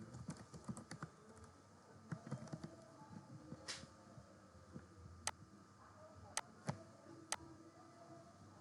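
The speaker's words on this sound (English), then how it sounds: "let's type type in something" Fingers type on a computer keyboard while form values are entered, a close run of quiet uneven key clicks with a few sharper isolated taps toward the end, no talking.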